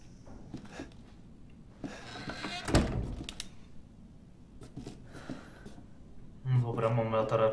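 A door shuts in the video game Resident Evil 7 with a single heavy thunk, set among quiet ambient game sounds while a person talks.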